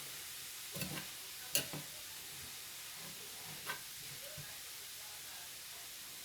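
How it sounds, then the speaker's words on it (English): Collard greens frying in a pan, a low steady sizzle with a few sharp ticks and stirring clatters scattered through it, fairly faint. "It's fried collard greens. They frying now."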